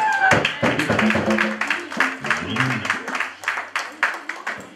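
A wedding congregation at a religious ceremony claps in uneven rhythmic bursts, fairly close and loud, with voices talking and calling out over the applause throughout.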